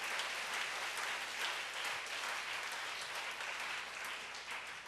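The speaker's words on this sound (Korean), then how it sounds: "우리 박수로 하나님께 영광 드리겠습니다" Applause from a church congregation during a Wednesday worship service, steady dense clapping sustained throughout without pause, fairly even in loudness and heard alone.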